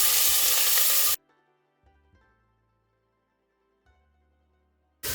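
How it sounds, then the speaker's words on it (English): Onions and garlic frying in hot oil give a loud, hissing sizzle that starts and stops abruptly, with quiet stretches in between where only faint cooking sounds remain. "Our oil looks like it's nicely heated, so we're going to add our onions and our garlic."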